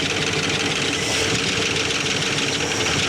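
A 1970 Dodge Charger that sat for 20 years idles roughly with a back cylinder not firing, a loud, close, continuous rumble with an uneven, shaking throb.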